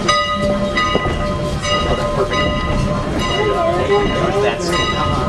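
A Strasburg Rail Road passenger train runs on an early winter day, with a loud, continuous rumble and faint clatter under a low wash of voices.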